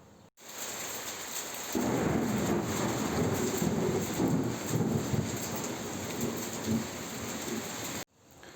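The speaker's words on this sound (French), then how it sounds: "Il y a eu énormément de pluie et d'orage, preuve en vidéo." Steady rain pours down with a low rumble of thunder rolling beneath it, loud and continuous, no voices.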